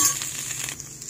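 Ingredients being sautéed quickly in a hot pan for fried rice, a brief bright sizzle with a soft rustle of stirring, close and steady.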